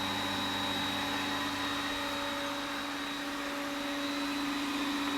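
A pool filter pump runs nearby with a steady, unbroken whirring hum and a fixed mechanical whine, loud and constant throughout.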